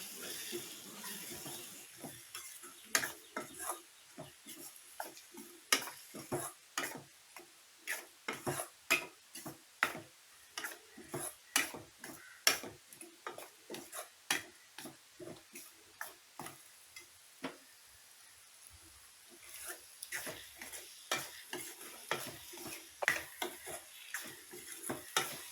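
Onions stirred in a pan for a Tamil-style egg fry, with a spoon or spatula scraping and tapping in an irregular close rhythm over a soft sizzle, steady and fairly quiet throughout.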